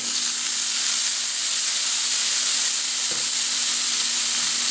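Steak with garlic and peppercorns sizzles steadily in a hot frying pan, a dense, even frying hiss with one small clatter partway through and no talking.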